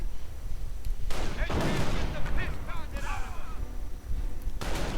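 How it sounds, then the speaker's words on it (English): Mortar fire in the Company of Heroes strategy game, a few heavy booming launches and impacts layered over rumbling battlefield noise, with a commentator talking over it. "Mortar firing away."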